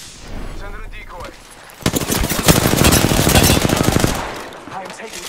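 Loud, rapid automatic gunfire in the shooter game Apex Legends rattles out in a dense burst lasting a couple of seconds, following a quieter lead-in and tailing off into softer noise.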